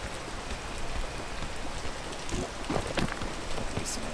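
Steady rain falls through a video game world, a dense even hiss filling the scene with a few brief louder patters and faint low rumbles near the end; no talk.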